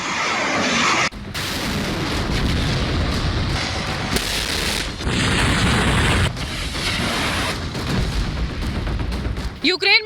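During a Belarus army exercise, a multiple rocket launcher fires rockets in continuous loud, roaring blasts that run together into a sustained rumble with a few sharper booms.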